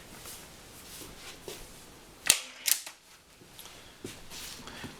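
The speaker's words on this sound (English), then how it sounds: "And one more shot" A Stoeger X20 air rifle fires one sharp, close crack, followed a moment later by a second shorter snap, against a quiet background with faint handling noises.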